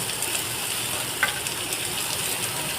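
Chopped banana stem dropped into shrimp frying with spices in a pan, a steady soft sizzle throughout with one brief clink near the middle.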